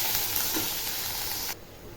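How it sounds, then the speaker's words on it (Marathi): Black beans frying with masala in hot oil, a close, bright steady sizzle and hiss that cuts off sharply partway through, leaving quieter background. "मी तेलामध्ये मसाला चांगला परतून घेते बघा वाटण पण बघा चांगला असं परतलेलं आहे आता काळा जेवढा टाकते आणि मस्तमध्ये मध्ये याला परतून घेते"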